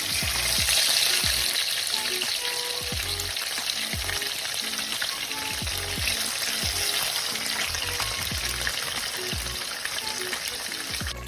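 Marinated tofu pieces fry in a hot pan with a steady, dense crackling sizzle throughout, close and loud, with occasional low thumps and shuffling from pieces being placed and moved.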